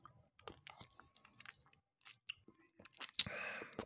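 Close, quiet chewing of jellied rooster aspic eaten from a spoon, with wet smacking, soft bites and crunchy clicks spread across the moment, ending in a brief louder crackle and a steady hiss.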